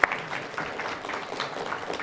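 An audience at a wind energy leasing talk claps steadily, a dense patter of many hands in a room.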